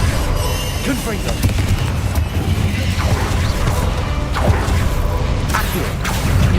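Confringo blasting spell in the video game Hogwarts Legacy, a loud dense barrage of booming explosive cracks and crashes rolling continuously over several seconds with no pause.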